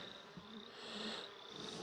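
Honeybees buzz in an opened hive at an outyard during a colony check: a continuous close, soft hum with gently rising and falling whine, no voices.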